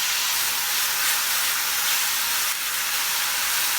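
Chicken pieces frying in oil in a pan give off a loud, steady, dense sizzle and hiss that fills the whole stretch without pause.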